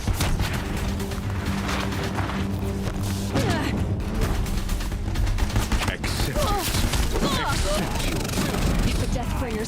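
Deathbringer machines fire in Horizon Zero Dawn as a continuous barrage of rapid gunfire and crashing blasts. It runs loud and dense throughout, with battle noise and shouted voices mixed in.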